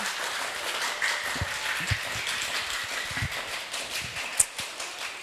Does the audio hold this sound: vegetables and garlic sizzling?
no